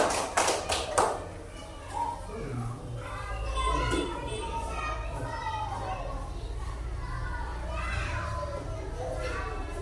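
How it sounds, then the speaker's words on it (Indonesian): A short burst of quick clapping from a group in a classroom, followed by children chattering and playing in a busy room. "tepuk tangan untuk kita semua."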